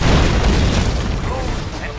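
Soviet warships open fire in the Red Alert 2 game, with loud, heavy booming explosions that roll on and slowly fade over about two seconds.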